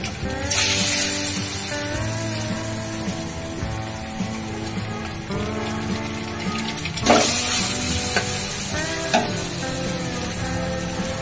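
Boiled eggs fry in hot oil with a constant bright sizzle and crackle, occasional stirring scrapes and louder spatters, close up; faint voices may sit underneath.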